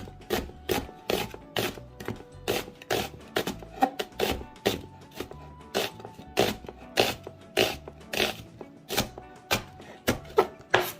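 A knife chops onions on a cutting board for pepper shrimp, with quick, even, close thuds repeating in a steady rhythm throughout and no voices.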